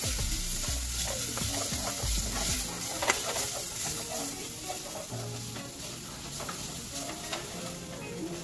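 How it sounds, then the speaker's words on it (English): Ginger garlic paste fries in a pan while being stirred continuously, a dense close sizzle with rhythmic scraping and tapping of the utensil against the pan. "Continuously stir it up."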